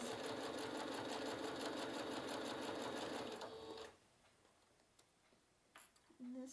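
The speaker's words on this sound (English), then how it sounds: "I sew across my other seam a little bit and then I back up over it" A domestic sewing machine stitches a seam on a fabric project bag and then backs up over it, running with a fast steady ticking rhythm for about three seconds before stopping, followed by faint handling noises.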